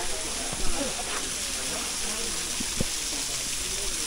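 A small waterfall stream at Himchori near Cox's Bazar pours with an even, broad hiss that fills the background, while people talk nearby over it with a few brief knocks.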